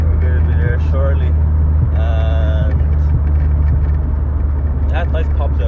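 A loud Mk4 Golf GTI with a 350whp turbocharged engine and aftermarket exhaust drones steadily up close, with rapid pops and crackles breaking through; voices talk over it throughout.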